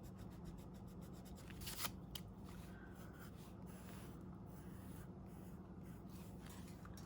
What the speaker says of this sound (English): And I'm going to erase this line.